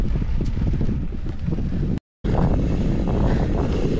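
Strong wind buffeting the microphone in loud rumbling gusts, with a brief dropout partway through.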